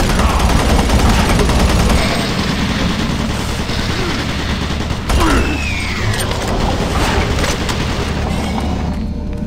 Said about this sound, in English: Warning, automated guns online.